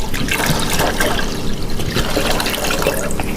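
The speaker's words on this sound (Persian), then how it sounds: "خب من آب به اندازه کافی میریزم داخل این" Water poured into a cooking pot holding barley and rice for barley soup, a steady, fairly loud splashing stream that runs unbroken and close by, with no talking.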